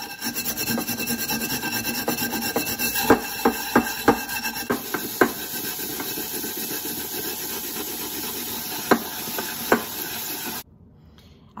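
A frying pan is scrubbed hard to lift stuck-on residue, steady rasping friction strokes close to the microphone with several sharp scraping clicks, stopping abruptly near the end.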